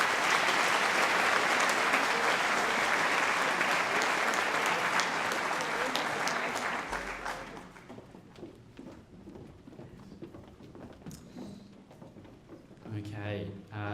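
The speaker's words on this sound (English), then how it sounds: "Can we have a round of applause for these graduates?" A school graduation ceremony audience applauds Year 12 graduates, with dense, loud clapping for about seven seconds before it fades into quieter room sounds and a few scattered claps.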